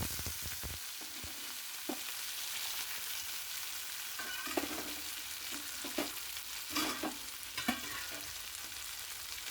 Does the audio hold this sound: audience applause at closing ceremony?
no